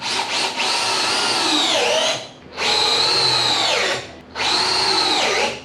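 A power drill drives 2.5-inch screws into a wooden table leg base, three sustained whirring bursts that pitch down as each screw seats, close and loud.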